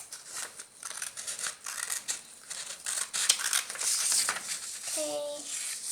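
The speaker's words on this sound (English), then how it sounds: "now I'm going to cut out the stems like this" Scissors snip paper stems for a handmade card, a string of close crisp cuts with light paper rustling, and a brief voice near the end.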